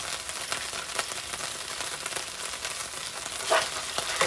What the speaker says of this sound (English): I'm going to put my garlic in.